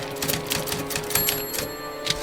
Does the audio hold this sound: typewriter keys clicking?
yes